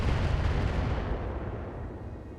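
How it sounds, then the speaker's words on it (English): Indirect weapons fire in the mech strategy game RogueTech, aimed at a Marauder: a dense, continuous low rumble of distant artillery barrages, loud and steady, with no voices. "We're firing indirect at this Marauder."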